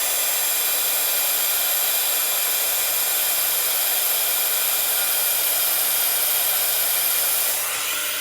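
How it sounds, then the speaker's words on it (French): Heat gun blowing a steady, loud hiss of hot air onto a painted, elongated triangular craft box, an unbroken whoosh lasting the whole stretch before easing slightly at the end. "Donc je prends le pistolet chauffant et je vais chauffer."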